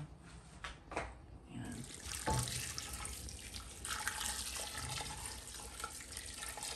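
Hot water poured into a cooking pot over chicken and onion leeks in a home kitchen, a steady continuous splashing pour lasting several seconds, close and fairly loud, with a few clinks before it.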